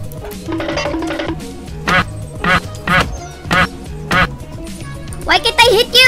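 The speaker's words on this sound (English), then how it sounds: "It's a bird." Duck-like quacking bird calls in the survival video game The Forest, a series of loud, repeated harmonic quacks close by over steady in-game ambience, with a person talking throughout.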